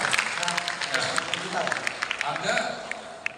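An audience at a housing ministry event applauding, loose scattered claps that continue steadily under people talking nearby.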